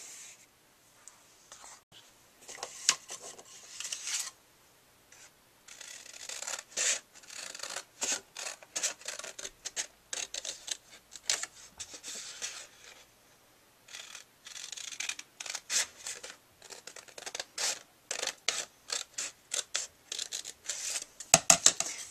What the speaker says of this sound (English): take your scissors and cut up on each side